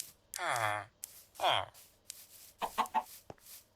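Chickens in the Minecraft video game clucking and squawking in a few short bursts, some longer tonal calls followed by quick choppy clucks, fairly quiet with gaps of silence between.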